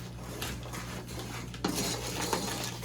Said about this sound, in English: Now stir them in together so that when you put the milk in it